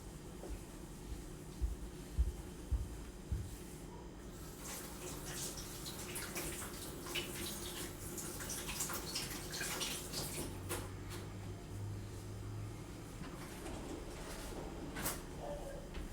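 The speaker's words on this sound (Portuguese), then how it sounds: "deixa eu só lavar minha mão" Tap water runs steadily over hands at a home kitchen sink during chocolate butter cookie making: a continuous close rush of water with a few clinks and splashes, no clear speech.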